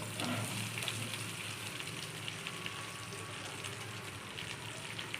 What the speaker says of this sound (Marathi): भरलेली भेंडी घालून घेऊया।